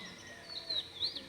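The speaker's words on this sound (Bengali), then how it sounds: "একদম সকালে পাখির আওয়াজ," Birds chirp faintly in a quiet early morning at 5:30, a couple of thin high tweets over near silence.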